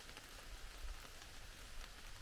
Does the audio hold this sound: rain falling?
yes